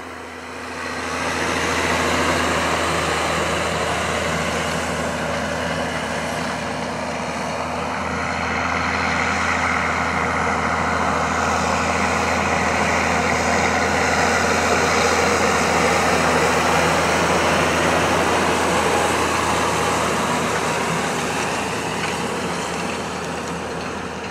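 A Claas Xerion 5000 tractor with a 12.5-litre Caterpillar six-cylinder engine runs loud and steady, a deep continuous diesel drone that holds for the whole stretch with no speech.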